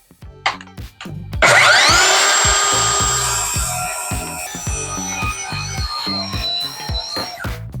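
A power saw makes its first cut in wood during home renovation work. A few knocks come first, then a loud, sustained whining buzz that eases slightly as the cut goes on.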